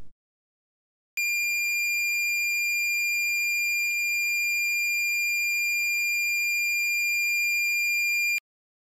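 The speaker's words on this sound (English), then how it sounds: "Now if I set the prescaler to 24, the frequency will be 2500 Hz. Let's test this frequency." A piezo buzzer driven by an STM32 microcontroller holds one steady 2500 Hz tone, starting abruptly after a moment of silence and sounding loud and unbroken for about seven seconds before cutting off.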